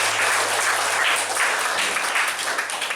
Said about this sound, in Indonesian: Mari kita kasih aplaus buat narasumber kita